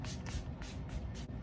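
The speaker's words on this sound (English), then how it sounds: "Let me just spray it here just to make sure." Several short hissing bursts of Make It Last setting spray are misted onto a face, with quick pauses between them, soft and close.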